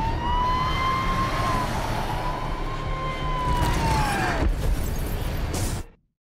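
A wailing siren rises and falls steadily over road noise, fairly loud and close, then cuts off abruptly near the end.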